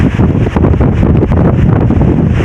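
Strong typhoon wind during Typhoon Kristine buffets the microphone in a loud, continuous rumbling roar with gusty surges and no voices.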